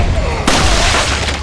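A single sharp gunshot for a headshot in Resident Evil 4 cracks out loud and close, with a quick decaying tail over low background game ambience.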